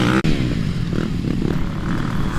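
A motocross bike engine revs hard and close at a Megacross race, a raspy droning roar that rises and wavers, briefly cutting out near the start before surging again.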